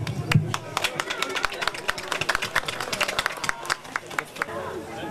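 An audience claps to welcome a guest tenor at a live nativity scene event, dense irregular clapping from a crowd mixed with murmured voices, fairly close and loud throughout.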